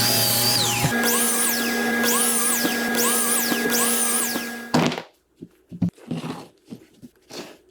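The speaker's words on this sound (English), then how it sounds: "cut off 8 squares using my miter saw" A miter saw whines steadily, then bites through a 2x4 in several rising-and-falling cuts, ending with a few loose thunks and clatters of pieces.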